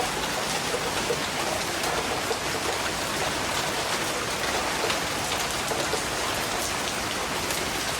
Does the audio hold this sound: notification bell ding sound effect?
no